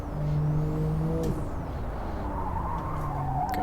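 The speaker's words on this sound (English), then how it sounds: "pull the handbrake in and break traction" Car drifting in the Live for Speed racing game, with steady engine drone and tonal whine that shift pitch as the handbrake breaks traction, loud and continuous throughout with no talk.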